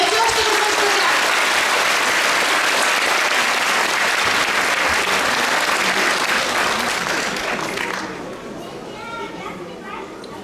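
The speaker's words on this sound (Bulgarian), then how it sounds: "Аплодисменти още веднъж за тях!" A school audience at a primary school in Kazanlak gives loud, sustained applause for first graders, with children's chatter mixed in; the clapping fades after about eight seconds, leaving quieter murmuring.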